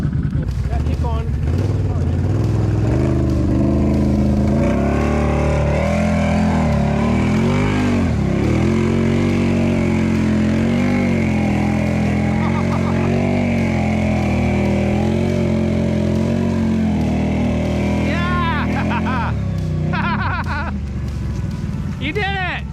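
A Can-Am Renegade ATV in four-wheel drive churns through mud, its engine droning and revving loudly and continuously up close, pitch rising and falling with the throttle, while people talk and cheer over it.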